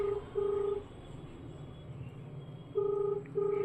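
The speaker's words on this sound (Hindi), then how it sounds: "ये देखिए ट्रांसप्लांट दोस्त वाले को फ़ोन लगा रहे हो" Keypad tones sound as a telephone is dialed: two pairs of short, clear beeps, one pair at the start and one near the end, with a quiet hum between them.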